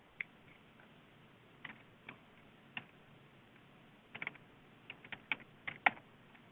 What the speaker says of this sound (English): At least we can see you typing, so that's perfect.